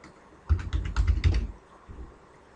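Fingers type a quick burst of about a dozen close, crisp keystrokes on a computer keyboard while a named range is entered in an Excel spreadsheet, followed by a single softer tap.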